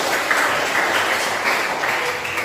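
Applause from a group of children in a classroom quiz after a correct answer, a steady wash of clapping at moderate distance, even and unbroken throughout.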